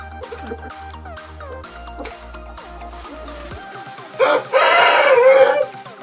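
An Aseel hen vocalizes nearby, a few short clucks and calls over a low background hum, followed by a louder, harsher burst of squawking near the end.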